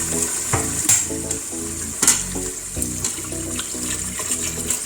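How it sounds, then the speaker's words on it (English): Water poured into a pot of parboiled rice in a Nigerian local rice dish, a sizzling, bubbling splash with repeated sharp spurts and clinks close by, no talk. "Now you have to add water."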